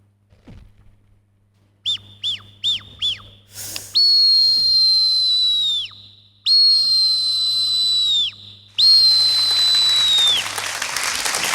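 A human voice whistles an imitation of a kite's call: four quick short chirps, then three long, high, shrill descending whistles with brief pauses between them.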